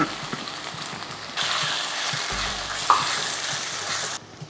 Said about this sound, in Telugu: ఆయిల్ వేడెక్కిన తర్వాత మనం గ్రేట్ చేసి పెట్టుకున్న మామిడికాయ వేసుకోవాలి